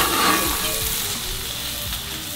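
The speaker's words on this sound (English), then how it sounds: "Scooping that butter, putting it right on top." Steak sizzling steadily in a hot pan as melted butter is spooned over the top during an overnight cook in a parking lot, with a continuous close frying hiss and no talking.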